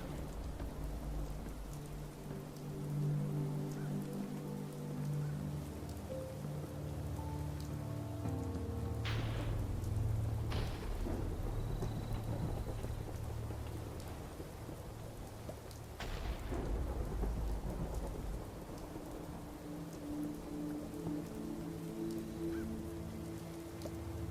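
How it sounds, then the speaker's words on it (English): Steady rain pours in a Minecraft thunderstorm, with several sharp thunder cracks and rumbles breaking through the constant hiss. No voices are heard. "Sure is stormy out."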